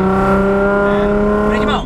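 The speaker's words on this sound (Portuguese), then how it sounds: "Acelera, acelera." A Nissan 350Z drift car holds a loud, steady high-rev engine note, close up, with a brief rising sweep near the end and a voice speaking over it.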